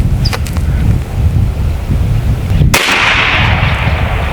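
An M50 PCP air pistol fires a single loud, sharp shot near the middle, set against steady outdoor wind rumble at a range.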